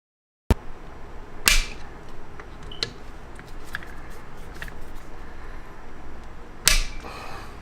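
A torque wrench clicks while scope mount screws are tightened to 30 inch-pounds, mounting a Vortex Viper PST on a Ruger Precision rifle; a few sharp, isolated clicks stand out, with two louder snaps several seconds apart and no talk.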